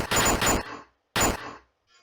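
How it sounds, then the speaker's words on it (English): Two loud bursts of gunfire from the Police Quest I computer game, each a short rattling volley with a brief decaying tail, separated by a gap of silence, with a faint third echo at the end. "Baines is taken down the barrage of gunfire."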